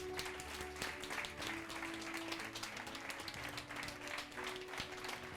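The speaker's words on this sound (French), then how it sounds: "on remercie tous les candidats et bravo à tous les lauréats et on les applaudit" Sustained applause from an audience at an awards ceremony for student studies and innovation trophies, dense steady clapping filling the whole stretch at moderate level, with faint low tones beneath.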